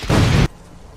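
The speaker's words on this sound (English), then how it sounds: "But I can make an explosion." A video game explosion in Resident Evil 3: one loud, close boom that lasts about half a second and then cuts off sharply into a quiet hiss.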